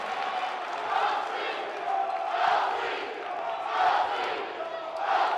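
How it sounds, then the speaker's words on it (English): A crowd roars steadily at a girls high school basketball sectional championship, a loud, sustained wash of voices that swells and eases in waves. "listen to the roar of this crowd"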